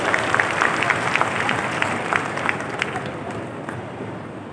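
A crowd at a political gathering in Chhattisgarh claps to welcome guests, a fairly loud burst of applause that gradually thins and fades over a few seconds.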